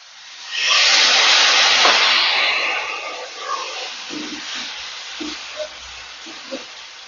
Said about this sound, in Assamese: এতিয়া মই ইয়াতে অকণমান পানী দি দিওঁ।